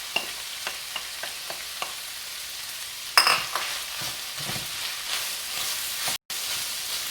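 Squash sizzles steadily in an iron skillet over low heat, a soft continuous hiss, first with a few faint utensil taps and then a louder clatter as the pieces go into the pan.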